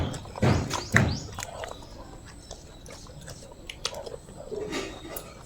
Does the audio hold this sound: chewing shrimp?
yes